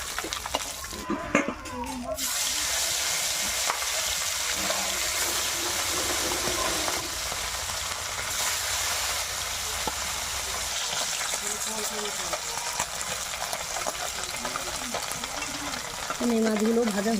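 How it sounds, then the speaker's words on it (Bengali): Pond fish frying in oil in a kadai make a continuous close sizzle with stirring scrapes, while a voice talks over it at the start and again toward the end. "এই মাছগুলো ভাজা হয়ে গেছে,"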